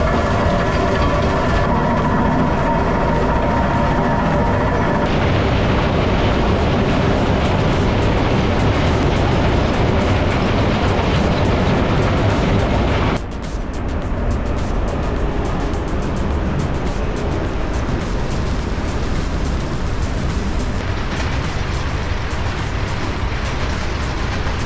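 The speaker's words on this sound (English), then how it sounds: "Seeing that awesome blasted limestone being crushed, just gone in seconds" A Metso 130 crusher grinds blasted limestone with a loud, continuous rumble and rattling of rock. The machinery roar shifts abruptly partway through and then carries on just as heavily.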